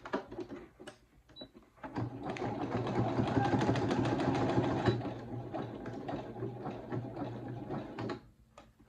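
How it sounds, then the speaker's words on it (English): A sewing machine back-stitches across coiled rope for a Christmas rope bowl, its motor humming in a continuous close whirr for several seconds after some handling noises, then slowing to a stop. "Okay, so then I back stitch."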